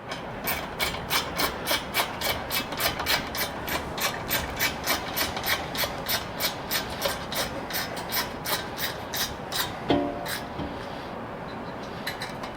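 A wrench tightens a roof rack mounting bolt on a Lexus GX 470 in an even series of about two dozen rasping ratchet strokes, close and regular, ending with a soft metallic knock.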